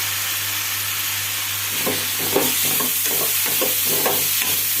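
Soaked dal stirred and frying with onions in a pan, with a steady background hiss and a run of scraping, sizzling stirs in the second half.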